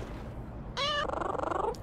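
A video game cat gives a short, bright meow and then a quick, fluttering purr for about a second, close and fairly loud over a low background hum.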